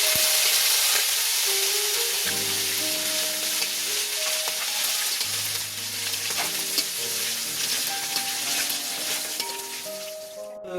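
Boiled beef seasoned with turmeric, salt and black pepper powder fries in oil with a loud, continuous crackling sizzle and occasional stirring scrapes, while a soft tonal melody plays underneath.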